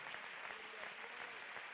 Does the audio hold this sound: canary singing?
no